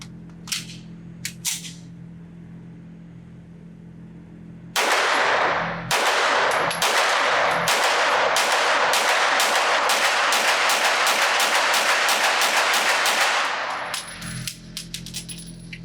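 Rapid string of loud, sharp gunshots from a Watchtower Firearms Apache double-stack 9mm 1911 pistol firing assorted hollow-point rounds at an outdoor range, after a few scattered shots, about nine seconds of close, fast, evenly spaced fire.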